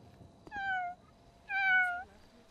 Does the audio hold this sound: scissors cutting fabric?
no